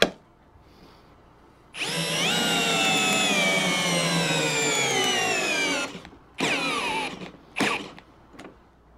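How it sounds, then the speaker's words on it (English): A Bauer cordless drill in first gear whirs close up in one long whining run, then several shorter bursts as it starts and stops, with a rising and falling motor pitch. "I have the Bauer drill in first gear."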